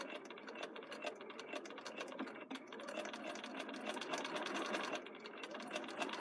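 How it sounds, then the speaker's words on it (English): A sewing machine stitches a narrow curved hem with a quick, steady mechanical whirring and clatter of the needle running continuously, close and fairly quiet, with no speech. "So I'm just stitching along here"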